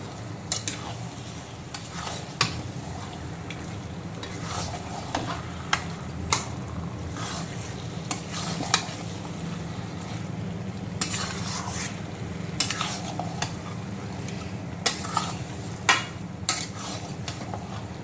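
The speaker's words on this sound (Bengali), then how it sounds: "সমস্ত মশলার সঙ্গে আগে খুব ভালো করে এইভাবে মিক্সড করে নিতে হবে" Mutton stirred with spices in a hot pan on low heat, a steady sizzle broken by repeated scraping clinks of a spoon against the pan throughout.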